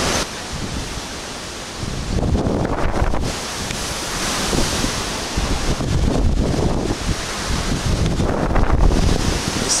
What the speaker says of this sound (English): It's swinging, and it's extremely windy.